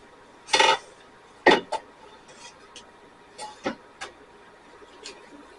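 A spoon scrapes and clanks against a pot while stirring chicken broccoli rice casserole, a few sharp metallic knocks and scrapes spaced irregularly over quiet background, no voices.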